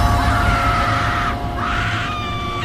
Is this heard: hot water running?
no